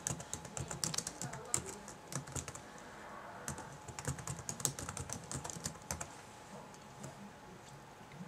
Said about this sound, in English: I'll type in my information.